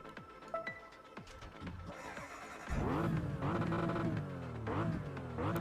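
A Porsche in Test Drive Unlimited 2 revving its engine: a few short blips, then a loud sustained high rev that rises and falls, with the engine surging again toward the end.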